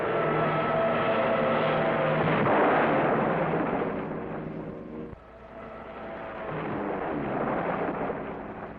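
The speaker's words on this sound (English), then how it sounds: "These are rockets." Rockets fired from Navy aircraft at a towed target sled during a 1954 cruise of the carrier USS Randolph make a loud, sustained roaring rumble with a distant boom partway through, heard over old film-soundtrack noise.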